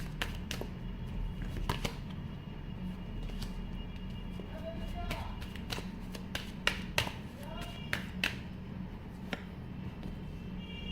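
Tarot cards being shuffled and drawn, scattered light taps and flicks over a low room hum, with someone talking now and then.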